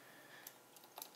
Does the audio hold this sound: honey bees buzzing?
no